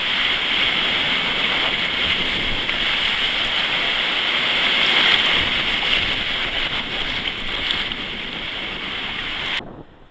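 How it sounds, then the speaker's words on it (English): Large ocean waves roll against a rocky shore in a steady, loud, continuous rush with heavy wind buffeting, and no voices are heard before the sound cuts off near the end. "we watched a succession of large waves come through"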